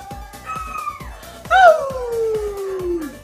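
A dog howls in long, wavering, falling tones that rise sharply midway, up close and loud over a soft background of repeated clicks.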